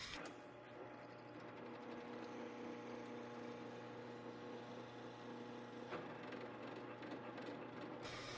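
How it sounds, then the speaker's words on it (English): A benchtop drill press runs with a steady, close motor drone and grinding hum that holds for the whole stretch, with faint mechanical rattles on top. "This time I'm using a standard Home Depot type benchtop drill press."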